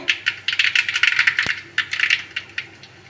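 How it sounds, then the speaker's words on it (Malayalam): Dense, rapid crackling and popping of mustard seeds spluttering in hot oil, with one sharper snap near the middle. "അതിലേക്ക് നമുക്കൊരു അര ടീസ്പൂൺ കടുക് ഇട്ട് കൊടുക്കാവേ"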